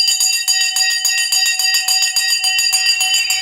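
A bell rings continuously with rapid, steady strikes, loud and alone, sustaining a bright metallic tone for several seconds.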